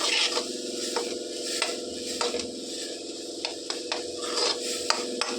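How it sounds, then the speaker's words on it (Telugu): Ingredients being stir-fried in a pan give a steady hiss along with repeated scraping and tapping of a spatula against the metal, close and rhythmic, with nobody speaking. "ఇట్లా బాగా వేయించుకోవాలి."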